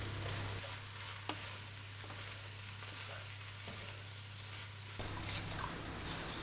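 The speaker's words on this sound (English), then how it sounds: "So that's the leeks, the garlic and the fennel going in last of all. So I'll just put them in the pot." Leeks, garlic and fennel sizzle and fry steadily in a pot for a borscht starter, a continuous low crackle with a faint clink near the start and a brief rise in intensity toward the end; no talking.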